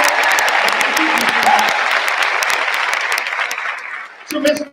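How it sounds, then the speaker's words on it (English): Applause from a high school graduation ceremony audience, dense clapping filling a large hall that gradually fades before an amplified voice resumes at the end. "She deserves a huge round of applause."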